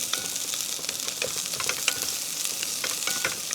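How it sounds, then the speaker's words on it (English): Onion sizzles and crackles steadily in a hot pan during outdoor cooking on Kauai, a loud, continuous fry close by with no voices. "And then you can put your onion. I like that. Oh, Ooh, that sounds good, Jess"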